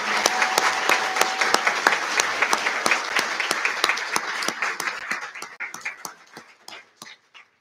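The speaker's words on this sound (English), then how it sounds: "one more round of applause," Applause at a summer master's commencement ceremony for secondary and world language graduates, with sharp claps cutting through a dense, loud crowd clapping that thins out and fades toward the end.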